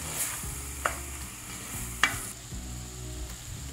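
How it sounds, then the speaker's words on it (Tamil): Onions and tomatoes sautéing in a pan for a prawn thokku, with repeated stirring scrapes and a couple of sharp utensil knocks over a steady low sizzle, close and with no voices. "நல்லா வதங்கினதுக்கப்புறம் தக்காளி சேர்த்துக்கோங்க"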